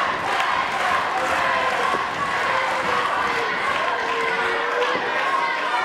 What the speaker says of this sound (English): Crowd cheering in appreciation of an incredible display of wrestling acumen.